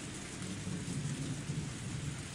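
A heavy downpour pours over a blackened swamp in the video game Higurashi, with a dense unbroken roar of rain and a deep rumble of thunder underneath, and no voices.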